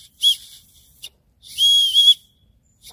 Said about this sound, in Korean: 이게 호루라기 있네?